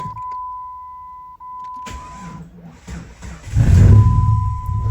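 A Jeep WJ engine fitted with a cold air intake cranks briefly over a steady whine, then catches and roars to life with a loud, rumbling idle that rises near the end.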